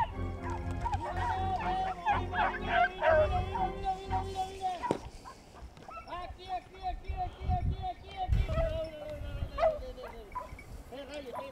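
Pack of scent hounds out rabbit hunting, barking and yelping in a busy overlapping chorus with whimpers, close and loud, while people shout and talk over them throughout.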